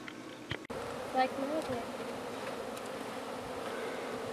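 A buzzing swarm of bees from an underground colony being moved into a hive box hums steadily up close, with a sharp knock near the start and faint voices underneath.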